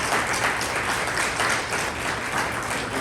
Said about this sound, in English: Let's give the candidates another round of applause.